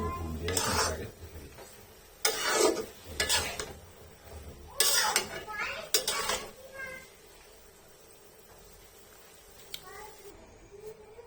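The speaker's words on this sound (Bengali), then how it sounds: "তো এখন আমি চিনি শিরাটার মধ্যে পুরো চাউলগুলো অ্যাড করে নিচ্ছি" Rice being tipped into sugar syrup and stirred in a pot for Bangladeshi zarda, with several loud scraping, clattering bursts of spoon against metal separated by quieter pauses.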